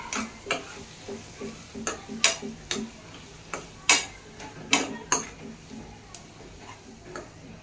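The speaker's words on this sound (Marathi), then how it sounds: "जे आपण मसाला तयार करायला भाजून घेतलं होतं ते ह्याच्यात घालून घ्यायचं आपल्याला फ्राय करायला" Roasted masala is stirred and fried in a pan of sprouted moth beans (matki), a steady rhythm of scraping spoon strokes over a soft sizzle, close and moderately loud.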